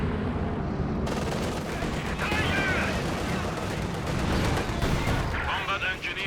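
Battle in the Company of Heroes 2 strategy game, with gunfire and artillery crackling and booming continuously through a dense, loud mix while a commentator talks over it.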